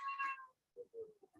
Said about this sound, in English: this is what happens when you try and introduce a new cat